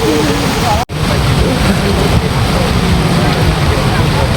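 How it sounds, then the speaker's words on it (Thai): Rain pours steadily in the mountain village of Ban E-Tong, Pilok, Kanchanaburi, as a loud, constant hiss mixed with wind buffeting the microphone, with voices talking throughout. "ฝนตก"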